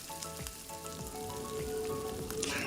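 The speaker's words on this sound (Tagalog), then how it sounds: "Gamit ang same na cooking oil sa pag-fry, isutay na po natin ang ating bawang." Garlic sautéing in cooking oil over medium heat in a home kitchen, a steady close sizzle and crackle with scattered pops and faint utensil clinks, no voices.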